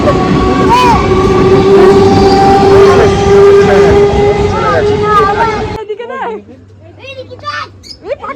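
A train rolls past with a loud, steady rumble and high tonal squeals, voices talking over it; the noise cuts off abruptly near the end, leaving quieter speech and light clatter.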